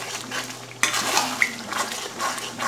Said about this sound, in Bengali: এইবার আমি এটাকে মশলার মধ্যে দিয়ে ভালো করে কষিয়ে নেব।